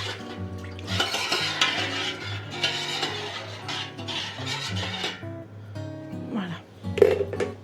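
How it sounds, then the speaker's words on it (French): A utensil stirs and clinks in a dish or pot as a marinade is thinned with pork cooking juices. Light scraping and clattering come in irregular bursts, with someone talking softly underneath. "je m'en vais diluer la marinade avec le jus de cuisson qu'on vient de faire"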